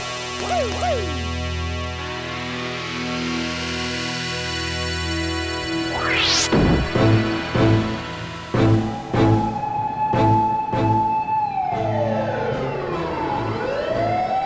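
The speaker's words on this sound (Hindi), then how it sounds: "अरे ये तो सच में दमकल का सायरन था" A wailing siren sweeps up and fades, followed by loud rhythmic clanking bangs and a falling whistle-like tone toward the end.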